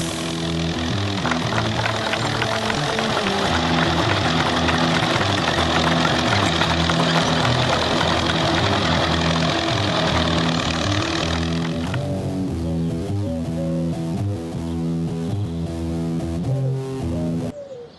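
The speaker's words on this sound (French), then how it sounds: "Bienvenue à la course de tracteur la plus réputée du pays." Loud, rumbling tractor engines running together at the start of a tractor race, a heavy continuous drone with knocking idle tones; the roar drops slightly near the end as engines settle.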